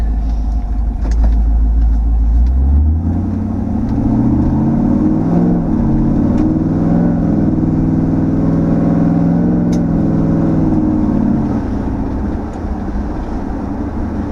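A car with a Gen V L83 5.3-liter V8 swap and a stage 2 cam accelerates hard, its loud engine rumble rising steadily in pitch over several seconds before easing off near the end, with no talking.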